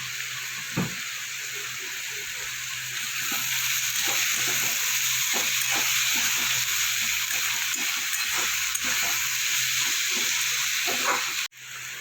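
Onion, ginger, garlic and green chilli frying in oil for a Bengali rohu fish curry, a steady close sizzle with scattered pops and stirring scrapes throughout, ending in a sharp clatter.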